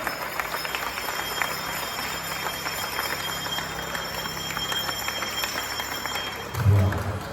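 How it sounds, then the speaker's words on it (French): Moderate applause from an audience at a children's Christmas event, a continuous patter of clapping with faint voices and a steady high-pitched tone in the room, ending in a short louder thump. "1, 2, 3, on applaudit notre feu, président Jenny-Flore Saint-Martin."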